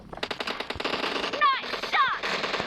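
Rapid automatic gunfire in the mobile shooter PUBG Mobile, a fast rattling stream of close shots with a couple of brief whizzing chirps mixed in.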